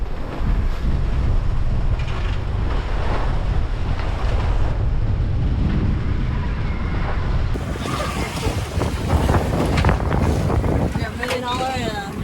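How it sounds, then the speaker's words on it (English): Ocean waves wash and surge around a sailboat 500 miles offshore, with strong wind buffeting the microphone in a constant loud roar and a few faint voices underneath. "These waves are something else."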